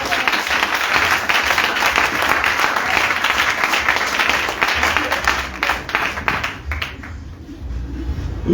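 Applause from a church congregation during a French-language worship service, loud sustained clapping filling the room before easing slightly toward the end.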